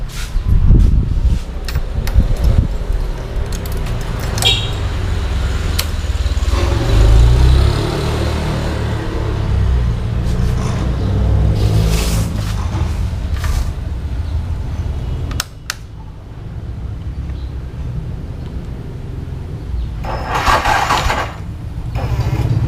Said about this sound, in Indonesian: saya akan mencoba menghidupkan R15 yang sudah lama tidak dihidupkan